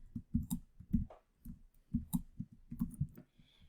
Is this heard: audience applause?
no